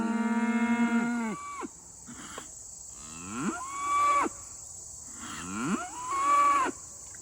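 Cattle out in a pasture give three loud, drawn-out moos in turn, each one rising and falling, close by against quiet rural background noise with crickets faintly audible.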